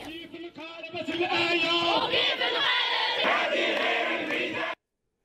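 Protesters at a Moroccan demonstration waving Palestinian flags chant slogans in unison, a loud, rhythmic crowd chant with shouted voices that cuts off abruptly at the end.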